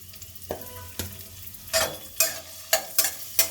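Chopped garlic frying in ghee, a close crackling sizzle broken by several sharp scraping stirs in quick succession, loud and alone.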